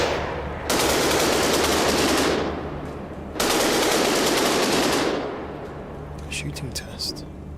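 A robot fires during a shooting test in a survival video game, in two long, loud bursts of rapid automatic gunfire separated by a short pause, followed by faint scattered clicks.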